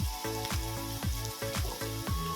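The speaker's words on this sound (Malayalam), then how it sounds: "ക്യാബേജ് ഇട്ടതിന് ശേഷം ഒന്ന് ഇളക്കി കൊടുക്കുക." Chopped cabbage is stir-fried in a hot pan, giving a steady loud sizzle that swells with each rhythmic toss or stir about every half second, close up with no speech.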